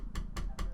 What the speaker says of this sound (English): That is the sound of the notebook that I've been writing all my notes in